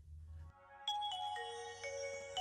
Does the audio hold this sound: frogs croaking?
no